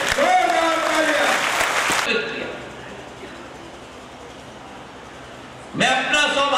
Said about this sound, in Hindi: ऐसे नेतृत्व श्रीमंत ज्योतिरादित्य सिंधिया जी के लिए जोरदार तालियां।